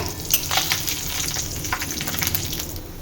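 Dried red chillies and bay leaves crackle and sizzle in hot oil in a pan, right after fish has been fried, as tempering for a Bengali fish curry; a steady, close frying hiss with bright sputtering pops throughout.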